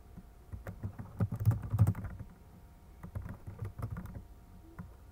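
Someone types on a computer keyboard in rapid bursts of clacking keys, close and fairly loud, with short pauses between runs of keystrokes.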